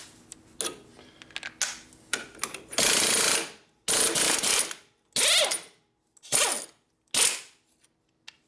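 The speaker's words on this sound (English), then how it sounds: "Use a smaller zip gun." A small pneumatic zip gun works the hub nuts on a 1957 Harley panhead drag bike in short, loud rattling bursts, roughly five separate runs separated by brief pauses, with lighter clicks and clanks between them.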